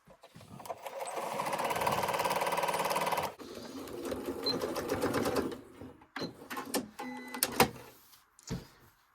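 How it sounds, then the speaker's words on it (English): A sewing machine stitches quilt-as-you-go table runner pieces with a fast, steady whirring hum, then stops and starts in shorter bursts with clicks and handling noises toward the end. "we're going to take it to the machine and we're going to stitch down here."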